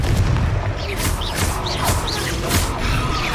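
A Confringo fire spell blasts in Hogwarts Legacy, a loud continuous roaring burst with booming impacts and crackling, layered with whooshing magical effects through the whole moment.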